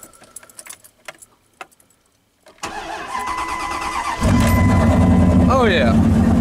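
A first-generation Ram pickup truck, unstarted for a couple of weeks, is started up close: a few soft clicks and key sounds, then the starter cranks, and the engine catches and settles into a loud, steady idle.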